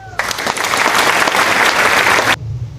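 A group of students claps together in a classroom after a presentation, a loud burst of dense clapping that starts abruptly, holds steady for about two seconds, then stops sharply.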